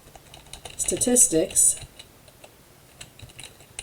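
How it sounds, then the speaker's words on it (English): Quick clicking keystrokes on a computer keyboard, a dense rapid run of typing near the mic that stops abruptly, followed by quiet room tone. "Sorry about the typing."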